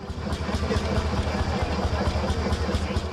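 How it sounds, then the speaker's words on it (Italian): Vintage Landini tractors idle and rumble as they parade through a village festival, producing a continuous low, throbbing engine drone with steady pulsing, moderately close. "Gli landini in sfilata hanno scandito il tempo con il rumore dei loro motori."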